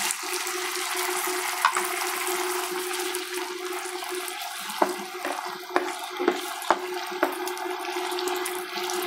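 Water poured into a pan while cooking a sauce with homemade tomato sauce and chili flakes, a steady close rushing flow with a few soft clinks and taps near the end, no talking.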